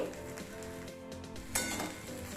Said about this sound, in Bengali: এবারে অ্যাড করছি কেটে রাখা বেগুনের টুকরো আবারও একটু সমস্ত কিছু নাড়াচাড়া করে নিচ্ছি